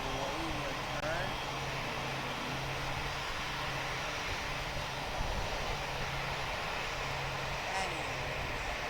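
Airplane engine in the Roblox game PTFS, a steady roaring drone with a low hum beneath, continuous and fairly loud under occasional speech.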